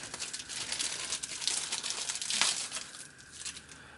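A plastic bag holding an oiled cast iron combination square crinkles and rustles close up in irregular bursts, with one louder crumple near the middle, no voices.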